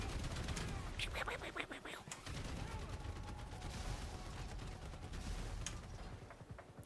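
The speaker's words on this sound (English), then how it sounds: "Let's make it the rogue cannon. I don't even know what that explodes like." Rogue cannon explosions in Grand Theft Auto V roll through as a rapid fusillade of booming blasts with deep bass-heavy thuds and crackling debris, loud and continuous with no talking.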